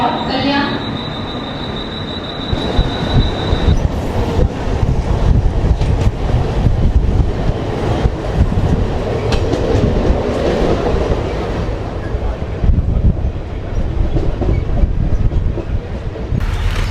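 A suburban local train on the Dombivli line rumbles loudly and continuously with wheel squeal and clatter, close up on a busy platform, wind buffeting the microphone, faint voices underneath.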